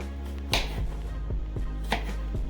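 A knife cutting an avocado into small sections thuds against a cutting board in a slow, irregular series of chops, each cut landing with a soft knock.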